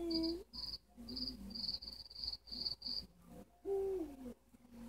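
A game owl in The Sims 3 gives low hoots at the start and again near the end, while steady cricket chirps pulse at night in the background.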